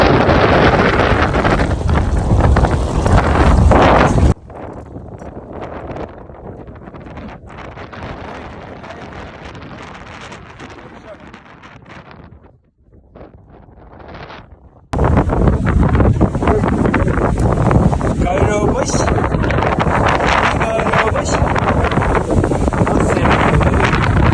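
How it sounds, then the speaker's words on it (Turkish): Loud, blustery wind roaring into the microphone, easing for several seconds in the middle before gusting back at full force. "Şu rüzgara bakın."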